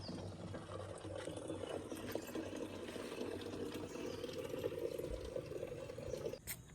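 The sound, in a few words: rainwater pouring out of a roof drain pipe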